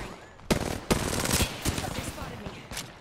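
Sharp gunshots crack in an Apex Legends firefight, a few close, distinct shots spaced out over a short stretch with other firing in the background.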